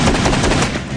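An AA-12 shotgun fires fully automatic in a fast, continuous burst of loud, close, overlapping blasts that runs the whole moment without a break.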